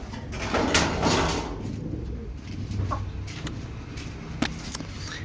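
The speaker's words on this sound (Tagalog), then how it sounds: "ito naman yung ating nasugatan na ibon" Soft cooing from an injured bird mixed with rustling and a few sharp knocks, fairly close, with no one talking.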